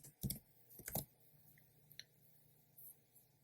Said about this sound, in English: I'm going to type alpha here